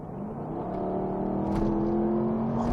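A 2006 Jaguar XK X150 4.2 convertible engine roars steadily and close, its deep tone building slightly as it pulls, with no voices over it.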